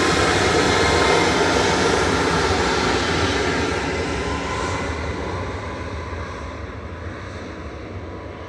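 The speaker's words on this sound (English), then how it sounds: "can hear the air tanker" A large air tanker aircraft's engines roar loudly and steadily at Manchester Airport, the broad jet noise slowly fading as it moves away.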